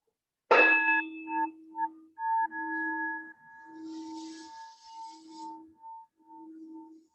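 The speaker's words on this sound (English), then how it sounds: "So I'm going to hit the bell" Meditation bell struck once, giving a bright ringing strike followed by a long sustained tone that pulses and slowly fades, with a faint hiss partway through.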